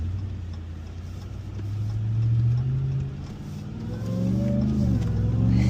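A Ram TRX pickup truck in sport mode, close up, with its engine rising and falling through deep revs and hard downshifts, steady and loud throughout with a rising whine toward the end.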